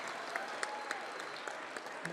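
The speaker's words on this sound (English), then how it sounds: "Can we get a round of applause for the folks that were stuck in the elevator and still made it here?" Gala audience applauding in a hotel venue, a steady wash of clapping from a large crowd that holds evenly for a couple of seconds with scattered sharper claps.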